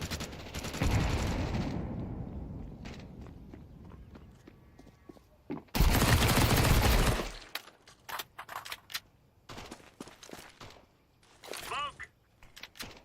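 Counter-Strike match gunfire with a thrown grenade, a loud sustained burst midway followed by scattered sharp shots and clatter, with voices talking earlier.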